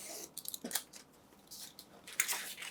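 Scissors snipping through book cover material, a few quick close crisp cuts at the start and another short run of snips near the end, quiet between.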